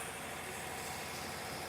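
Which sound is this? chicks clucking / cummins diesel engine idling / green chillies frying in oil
cummins diesel engine idling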